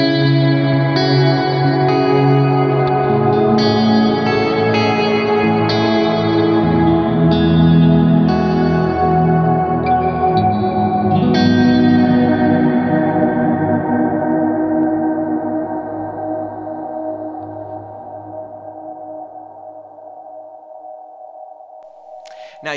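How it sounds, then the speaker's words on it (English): Ambient electric guitar swells wash out through heavy reverb and delay. Sustained chords and echoing notes build into a big wide sound, then fade into a long decaying tail with no talking. "Now you add in the delays, and now you're gonna get that beautiful big sound at the front."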